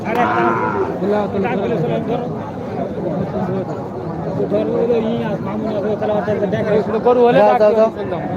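Cattle moo repeatedly at a busy cattle market, long low calls rising over a crowd of chattering buyers and sellers, with people talking close by throughout.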